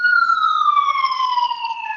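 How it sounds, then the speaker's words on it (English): A loud police siren wails steadily, its tone gliding slowly downward as it passes close by, with no voices over it. "Sorry about those sirens."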